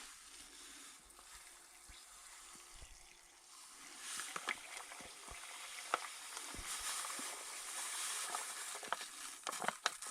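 Black plastic dye poured from a container into another vessel, a steady liquid trickle and splash with small crackles that grows fuller and closer partway through.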